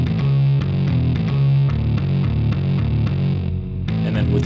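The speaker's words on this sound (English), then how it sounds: "I have this bass line here." A distorted, effects-laden synth bass line produced for a homemade beat plays alone as a steady, looping sequence of gritty low notes, loud and close with no voices.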